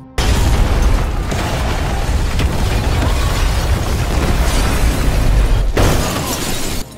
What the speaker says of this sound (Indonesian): salah satunya membuka oven menyebabkan ledakan besar